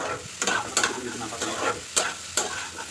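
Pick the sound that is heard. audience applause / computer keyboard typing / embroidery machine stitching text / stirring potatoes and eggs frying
stirring potatoes and eggs frying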